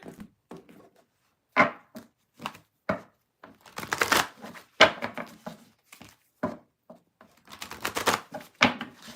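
Crisp, irregular bursts of tarot card shuffling, riffles and slaps coming in quick clusters with short pauses between, close and fairly loud, no talking.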